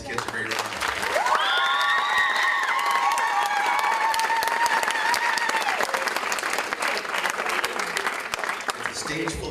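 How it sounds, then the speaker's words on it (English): An audience at a school coronation event claps for a stage full of kids, sustained dense applause that swells quickly and holds steady, while loud whoops and cheers ring out over it for a few seconds. "Let's give all these kids a great round of applause."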